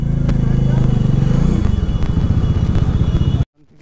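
A motorcycle engine on a highway, part of a two-bike group ride from Kolkata: loud, close, throbbing exhaust pulses with rising and falling revs, ending abruptly in near silence.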